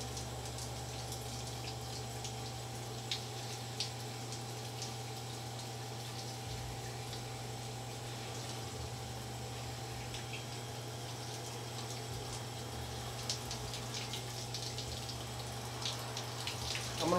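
Steady water runs over and soaks a Rawlings REV1X baseball glove, a constant low pump-like hum with a faint trickle beneath, even and unbroken throughout with no talk.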